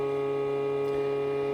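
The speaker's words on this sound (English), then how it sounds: "this is the sound of the charger" An EGO Power+ battery charger for a lawn mower and string trimmer battery runs its cooling fan in a steady, even hum with a constant tone, close and unchanging throughout, with no voices.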